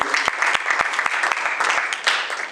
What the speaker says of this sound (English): let's give Mr. Kreider a wonderful applause